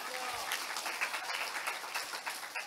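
Audience clapping at a Korean popular-science talk on science and technology, a steady wash of many hands throughout, moderately distant, with no voices over it.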